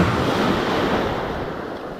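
Calm ocean waves on a clear, gentle swell, heard as a steady, close wash of surf mixed with wind rumble on the microphone, continuous and without voices.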